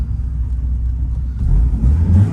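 A Porsche 944 engine rumbling low and steady from inside the car while driving, rising slightly in intensity toward the end, with no talk.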